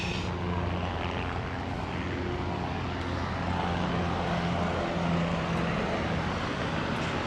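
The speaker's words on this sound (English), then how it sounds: "we got the helicopters taking off and landing over at Pier 6" Continuous loud helicopter rotor and engine roar as helicopters take off and land at a New York City pier, steady and broad, with a low droning rumble filling the whole stretch.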